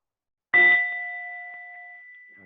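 A mindfulness bell is struck once, giving a clear, bright ding whose pure tone rings on and slowly fades. It sounds alone in an otherwise quiet space.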